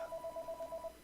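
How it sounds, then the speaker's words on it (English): A telephone rings with a rapid pulsing electronic trill, a quick series of short even beeps, fairly faint against background hiss. "that phone always goes off when I'm talking"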